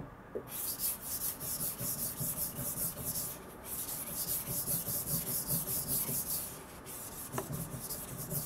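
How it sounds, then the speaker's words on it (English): A clad Yoshikane 180mm petty knife of SKD-11 steel is lapped by hand across a muddy whetstone, giving a close, steady back-and-forth rasping scrape in even repeated strokes. "with the mud you do a little bit of lapping so that the scratch pattern is going to be pretty for this clad knife"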